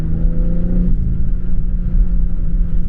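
A BMW M3 Competition with a turbocharged six-cylinder engine passes close and loud, its droning roar carrying a higher whine that drops away after about a second into a steady low rumble.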